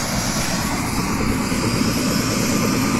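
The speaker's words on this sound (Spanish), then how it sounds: "Este helicóptero que viene de la ciudad capital." A helicopter flying in from the capital city to land on a sports field, a loud, steady, close rotor and engine roar that fills the clip alone.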